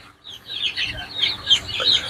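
Native deshi hens clucking and chattering together on a rooftop poultry farm, a steady busy stream of close bird calls with a faint voice underneath.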